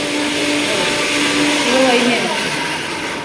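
A kitchen mixer grinder running in a rented room during wedding preparations, a steady close whirring motor drone with a slight rise in pitch midway, the blades' hum continuous throughout.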